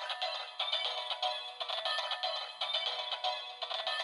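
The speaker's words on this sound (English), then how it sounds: "So we get the same ringtone" A DX A.I.M.S. narikiri toy plays its electronic ringtone, a bright repeating chime pattern pulsing steadily for several seconds, fairly close and with no talking over it.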